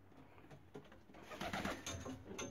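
Pigeons in a loft of Birmingham roller pigeons, along with a wild blue bar pigeon, give a few soft low coos against a faint background hiss and a thin steady high tone.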